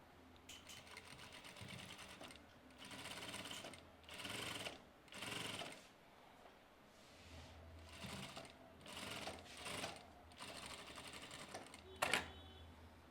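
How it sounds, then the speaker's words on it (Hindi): A sewing machine stitches the hem of a katori blouse in repeated bursts of whirring, some short and some longer, broken by brief pauses, with a sharp click near the end; no one speaks. "यहाँ पर हम सिलाई को बड़ा कर दे रहे हैं क्योंकि हमारा यहाँ पे हेमिंग होने वाला है"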